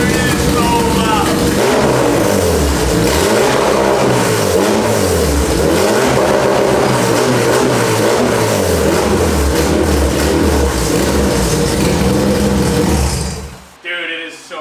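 Very loud modified Honda Civic exhaust revving up and down in a string of quick throttle blips, close and raspy, before the engine suddenly cuts off.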